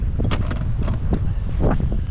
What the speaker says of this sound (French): Je pense jamais pêcher avec autant de vent